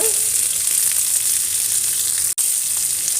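Drumstick leaves sauté with salt in a pan for a chutney, a loud, even sizzle and hiss that holds steady with one brief dropout near the end, close and alone without speech.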